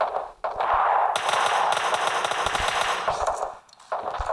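Sustained automatic gunfire in the mobile battle-royale game PUBG Mobile Lite, loud and close, a rapid continuous burst of shots for most of the span with a brief break before a final volley.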